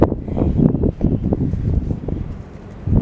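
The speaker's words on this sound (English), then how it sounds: "The wind is so strong, I can't even hold on to nothing." Strong gusting wind buffets the microphone outdoors beside a pink van, a low rumbling roar that surges and dips for several seconds with no voices.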